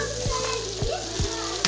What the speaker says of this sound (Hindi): तो यहाँ पे अच्छे से चिकन भी फ्राई हो चुका है